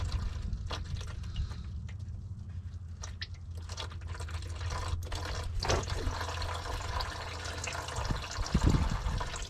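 Diesel fuel drains from the fuel drain valve of a 2011–2016 6.7 Powerstroke truck, a close trickling and splashing of liquid into a container, steady with small drips and handling noises, out in cold weather.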